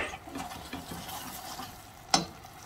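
Apple pieces for a creamy apple flan tart are stirred quickly in a bowl, giving soft wet scraping and patter that runs continuously, with a sharper clack of the utensil near the end.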